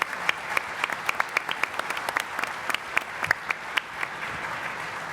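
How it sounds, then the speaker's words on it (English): An audience claps for panelists at a global leaders plenary panel; the sharp, dense clapping is moderately loud and steady, with scattered louder claps and little talk. "Let's give our panelists a nice round of applause"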